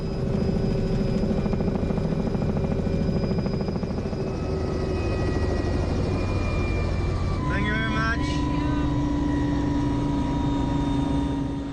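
A helicopter drones continuously nearby during a ride over Rio de Janeiro, its rotor and turbine hum steady and loud, with a brief whine shifting partway through.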